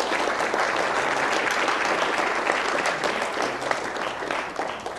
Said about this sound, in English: please give him a round of applause for everything that he's done